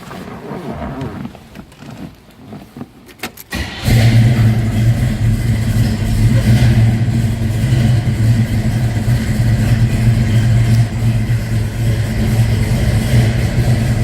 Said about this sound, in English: Let's go ahead and fire it up so you can hear it.